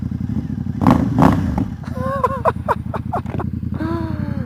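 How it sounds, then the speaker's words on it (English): A Ducati XDiavel motorcycle engine idles with a deep, pulsing exhaust rumble, close by, while a voice talks over it in short bursts. "You just want to ride it just to listen to the freaking exhaust."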